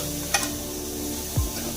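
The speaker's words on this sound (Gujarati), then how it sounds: "આવી રીતે તમારે ચમચાથી હલાવી દેવાનું, અને ગેસ ધીમ ફ્લેમ પર રાખવાનો" A spoon stirs onions and chutney in a pan over a low gas flame, giving a couple of brief scrapes over a soft, steady sizzle.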